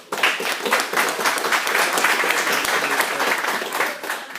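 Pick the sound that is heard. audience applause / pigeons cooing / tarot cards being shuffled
audience applause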